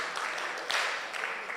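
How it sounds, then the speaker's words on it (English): Short burst of audience applause at a STEM festival mentorship session, moderate in level with steady clapping that swells briefly midway, with no talk over it. "So clap for yourself once again for being amazing."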